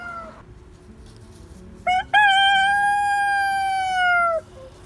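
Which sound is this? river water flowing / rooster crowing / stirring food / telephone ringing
rooster crowing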